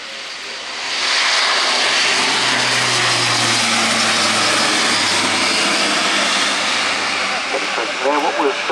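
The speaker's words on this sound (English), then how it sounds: "There, what was called a max effort takeoff" A German Air Force Airbus A400M turboprop makes a max-effort takeoff at the RIAT 2025 air show, its broad engine roar swelling in within a second and staying loud and sustained, with a faint voice near the end.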